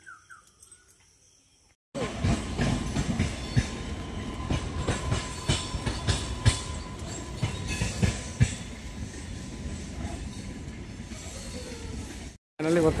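Train at Bhadrak railway station rolling past close by, a loud continuous rumble with rhythmic wheel clatter for about ten seconds, then abruptly cut.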